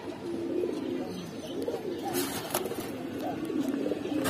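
Pigeons, including bagha and giribaz breeds, coo softly in a keeper's loft, low rolling calls repeating under faint background noise and occasional sharp clicks.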